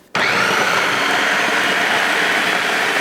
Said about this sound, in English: Now we're going to process this until it turns into a paste.